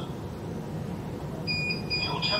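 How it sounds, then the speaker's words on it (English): A steady high electronic alarm beep from a network video recorder sounds over a constant background hum, starting partway through and holding its tone to the end. "you heard the actual NVR beep just then"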